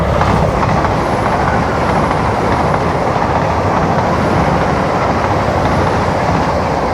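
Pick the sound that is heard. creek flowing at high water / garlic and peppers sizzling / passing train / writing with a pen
passing train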